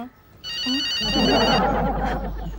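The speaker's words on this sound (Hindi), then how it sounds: "मैडम आप ही का फोन बज रहा है।" A phone rings with a bright, repeating electronic tone for about a second, then a voice starts talking over it.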